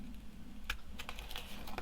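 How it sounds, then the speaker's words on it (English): Scissors snip through paper while a junk journal page is trimmed at a pointed corner, giving a few short, crisp close-up cuts at an irregular rhythm with no voices. "I'm just going to take my scissors and I'm just going to cut this pointy bit off here."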